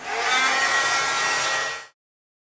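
A craft heat tool blows over Distress embossing glaze to set it, a close, steady roaring whir lasting just under two seconds before cutting off abruptly.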